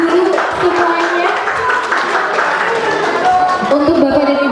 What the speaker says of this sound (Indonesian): Boleh beri tepuk tangan dulu semuanya